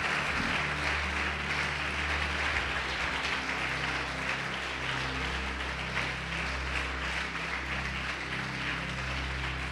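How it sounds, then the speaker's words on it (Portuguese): Sustained applause from a crowd, steady and dense throughout, with a low humming tone underneath. "Vamos aplaudir o Senhor Jesus e glorificar a Deus."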